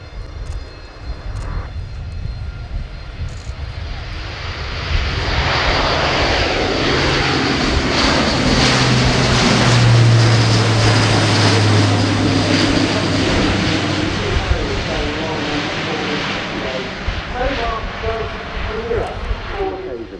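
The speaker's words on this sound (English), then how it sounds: "as the A400M gets ready to depart" Airbus A400M military transport turboprop at the Royal International Air Tattoo, its propeller engines droning loudly and swelling to a roaring peak midway as it prepares to depart, with a voice talking over the noise.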